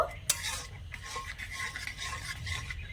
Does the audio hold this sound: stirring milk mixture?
yes